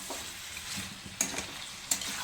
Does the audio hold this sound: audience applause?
no